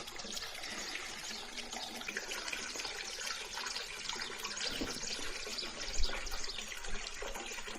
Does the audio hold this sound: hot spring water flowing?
yes